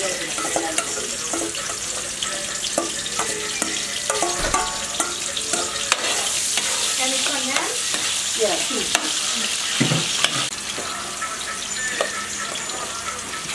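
Guyanese curry ingredients fry in a pot, a loud steady sizzle with frequent spoon scrapes and clinks of stirring, and a few faint voices in the background.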